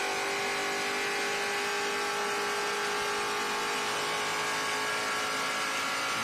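A racing car at a Watkins Glen SpeedTour race drones steadily at a distance for about six seconds, a constant engine tone with a broad noisy hiss and no clear revving changes.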